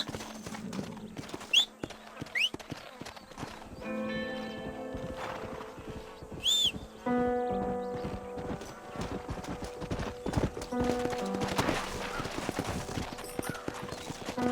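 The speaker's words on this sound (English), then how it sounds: "Horses are over here!" Rapid horse hoofbeats in Red Dead Redemption clip-clop along steadily with an occasional neigh, mixed with music, shouting voices and scattered game sound effects.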